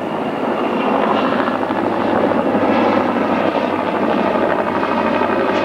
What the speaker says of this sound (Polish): Śmigłowce wciąż patrolują jeszcze teren zalany.